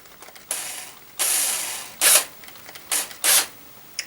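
Ratchet clicks come in several separate bursts as a fitting on a truck is tightened, each run a quick rapid pawl rattle, loud and close, with short quiet gaps between them.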